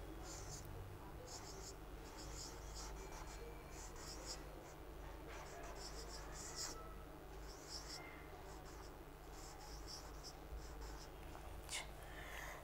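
Numbers are written by hand during a maths lesson on large numbers, producing faint, rhythmic scratching strokes in short repeated bursts over a low, steady background hum.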